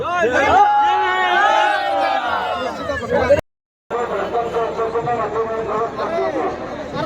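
Huge crowd of pilgrims at the Jagannath car festival, a dense roar of chatter, shouts and whoops filling the air, broken by a brief silent gap before the babble resumes just as loud.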